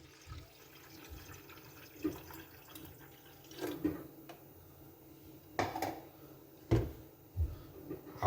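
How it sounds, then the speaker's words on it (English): Strained liquid is poured into a container, giving faint splashing and trickling with a few louder drips and clunks spread unevenly over several seconds, close and quiet. "Once I strain it, I pour it into my container."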